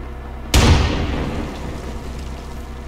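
A grenade blast in the military shooter game ArmA erupts suddenly and loudly after a brief quiet, then trails into a long rumbling, crackling decay that fades over a couple of seconds.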